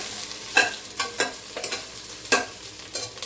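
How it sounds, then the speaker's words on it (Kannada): Raw jackfruit pieces fry in a pan and are stirred with repeated scraping strokes, around eight sharp close scrapes over a soft steady sizzle, with no voices. "ಸೀಗುಜ್ಜೆಯನ್ನು ಹಾಕಿ ಚೆನ್ನಾಗಿ ಫ್ರೈ ಮಾಡಬೇಕು."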